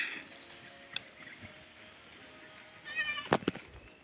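A goat bleats once near the end, a short wavering cry, heard faintly against a quiet background with a few small clicks.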